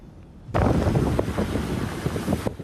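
Strong typhoon wind blasting through a street in Kaohsiung, Taiwan, a loud, continuous roaring rush that starts abruptly and buffets steadily for about two seconds before cutting off.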